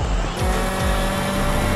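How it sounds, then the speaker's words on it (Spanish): Video game car in a stunt game accelerating at full speed toward a jump ramp, a steady loud engine drone with low rumbling sweeps, no voices. "Ahora acelerando a toda velocidad para subir a esta rampa."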